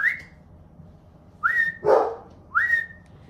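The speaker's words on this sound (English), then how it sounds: "I don't know what my dog's barking at." A pet dog barks at something outside a family home, giving about three separate sharp barks spaced over a few seconds, fairly close and with no talk over them.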